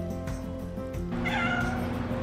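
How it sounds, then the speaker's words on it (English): A pet cat meows indoors, a couple of drawn-out, wavering cries close by, clear and without talk. "Oh, Richie's there, meow"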